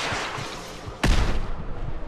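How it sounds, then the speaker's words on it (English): A single loud, sharp missile-launcher blast goes off in a winter survival video game, a sudden boom landing about midway through over a steady wash of ambient noise, with rumbling, noisy aftermath trailing behind it. "Somebody's got a missile launcher."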